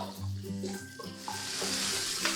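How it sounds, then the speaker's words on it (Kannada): Two sliced onions and a sprig of curry leaves are stirred in a hot pan for Mysore-style onion saagu, with a close sizzle and scraping, clattering strokes of a spoon throughout. "ಎಲ್ಲ ಮಿಕ್ಸ್ ಮಾಡ್ಕೊಳ್ಳೋಣ."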